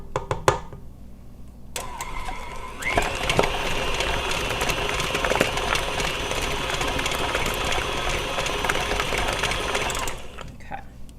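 Electric mixer beating low carb cheesecake batter in a home kitchen, starting after a few clicks and running as a loud, steady whirring drone for several seconds before cutting off.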